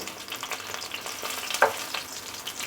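Pakora fritters fry in shallow oil in a pan, a soft steady sizzle with light crackles and one brief sharper scrape, close but fairly quiet.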